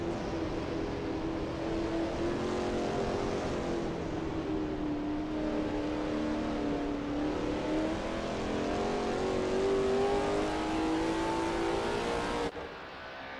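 Lola T70 MkII Spyder race car in a racing game at Sebring, its engine droning loud and steady with rising and falling pitch through a bend, cutting off abruptly near the end.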